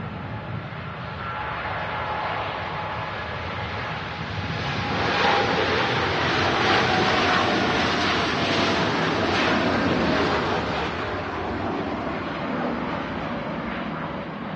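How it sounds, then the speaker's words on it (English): A TUI Boeing 787 Dreamliner departs Manchester Airport, its engine roar swelling midway and then easing off, a broad rushing noise heard from a distance with wind across the microphone. "TUI Dreamliner departs"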